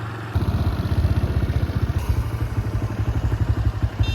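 A motorcycle engine putters steadily at low revs, close by, with a regular thumping pulse and some rattling, no talk.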